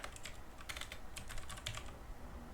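Fingers tap quickly on a computer keyboard, irregular clusters of light clicks and keystrokes heard close up in a quiet room with no voices.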